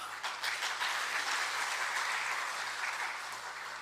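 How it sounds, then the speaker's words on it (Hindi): An audience at a Hindi political speech claps steadily throughout, a dense roar of many hands with no speaking. "यहां से तो ताली बजती है"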